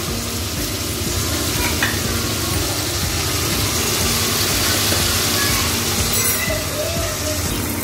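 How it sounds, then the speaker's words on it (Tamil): Tomatoes and onions sauté for a prawn gravy, making a continuous, fairly loud sizzle with faint stirring scrapes throughout and no talk. "இப்போ இந்த தக்காளி கொஞ்சம் நேரம் வதங்கட்டும்"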